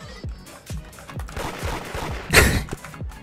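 Rapid gunfire in the Roblox game Da Hood, a string of punchy shots in an uneven rhythm with one louder burst near the end, set against a busy game soundscape.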